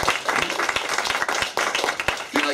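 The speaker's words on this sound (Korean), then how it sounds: "하나님 앞에 감사 박수하는 게 어때요?" Congregation clapping in thanks during a Korean church service, a dense stream of many hands with sharper individual claps standing out over the crowd.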